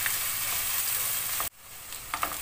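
Chopped onion and garlic sizzle steadily in a hot pan for a Turkish-style zucchini dish. The frying hiss cuts off abruptly midway, then returns quieter with a few light clinks.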